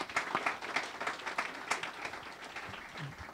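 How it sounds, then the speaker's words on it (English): Modest applause for a panel after an education accountability debate, a fairly quiet, patchy round of clapping from a small audience that holds steady for a few seconds. "So I want to have two separate rounds of applause here."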